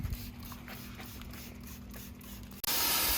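Water spray rinsing iron remover off car wheels, a steady close hiss that cuts abruptly into a louder, brighter rush of spray near the end.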